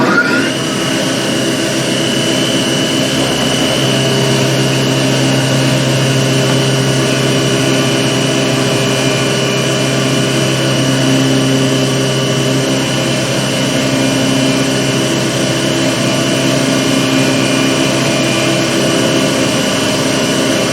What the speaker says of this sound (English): mill the pocket for the switch